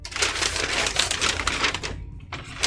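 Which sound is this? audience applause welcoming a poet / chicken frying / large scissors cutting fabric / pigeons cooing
large scissors cutting fabric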